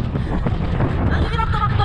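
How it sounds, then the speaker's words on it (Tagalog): Strong wind at Mesaieed buffets the microphone with a continuous low roar and gusty rushing, while a voice can be heard faintly underneath. "Lakas ng hangin, grabe."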